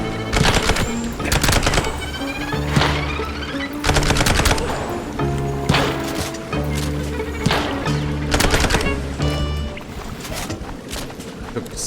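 Gunfire in the mouse detective video game Mouse: P.I. For Hire: a string of loud, sharp shots bursting every second or so over a steady, tonal game music score, with no talking.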